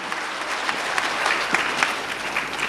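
Enthusiastic audience applause at a sales seminar, a steady wash of many hands clapping with scattered louder claps, filling the room without pause.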